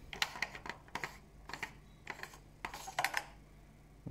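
Small screws on an Altair M63 reducer/flattener being loosened with a 1.5mm hex key, a quiet series of light metallic clicks and ticks in an irregular rhythm, close and faint.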